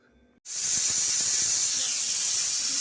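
Following a short quiet start, a pressure cooker whistle bursts out with a loud, sharp hiss of escaping steam and continues steadily, close by, with a faint low rattle beneath.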